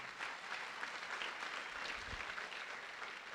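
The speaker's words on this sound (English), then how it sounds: "Give them a round of applause if you would." Crowd applause at a summer school commencement ceremony, steady clapping heard from a distance, fairly soft and even throughout.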